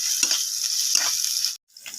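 Whole cumin, chopped onion and ginger sizzle loudly in a hot pan, a steady broadband hiss with a few stirring scrapes, cutting out briefly before resuming; no voices.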